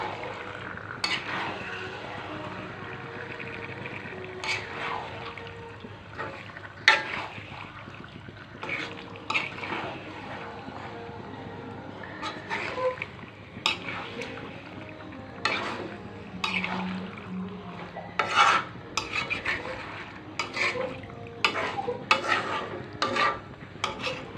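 Chicken meat stirred and fried with cooked spice paste in a pot, soft sizzling under repeated scraping and clinking of a spoon against the pan.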